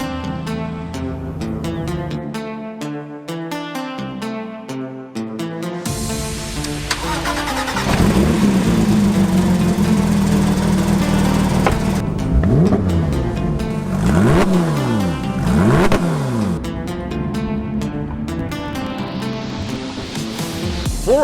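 A Porsche 911 GT3 race-tuned 3.8-litre boxer engine cranks and fires up, then revs sharply several times in rising and falling sweeps toward 9,000 RPM, loud and close, with no talking.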